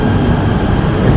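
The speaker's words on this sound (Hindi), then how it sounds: "KTM मेट्रो है ये भाई" KTM metro train at a quiet station in Kuala Lumpur, a steady loud broadband rumble and rail hiss continuing throughout without a break.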